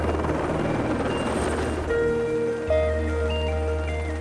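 Helicopters arrive to pick up downed airmen during a combat search and rescue exercise, a loud continuous rotor and turbine drone with a rising whine that swells as the aircraft draw near.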